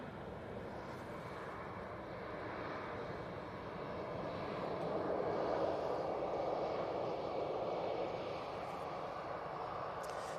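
An airliner touches down at Manchester Airport, a distant engine roar that swells in the middle and then eases off, heard faintly and continuously.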